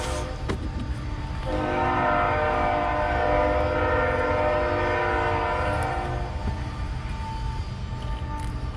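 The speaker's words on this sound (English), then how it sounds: "Have to excuse the trains." Passing train on a nearby rail line with a sustained, loud horn blast holding steady tones for several seconds over the rumble and clatter of rail cars, heard outdoors beside a garden ramp with no talking.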